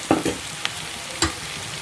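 A few soft stirring scrapes in a pan over a steady low sizzle of finely chopped onions frying, with no voices.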